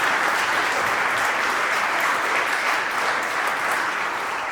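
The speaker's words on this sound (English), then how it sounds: "I think we should salute her with a round of applause" Steady, dense applause from a gala dinner audience in a banquet hall, sustained and loud throughout with no break.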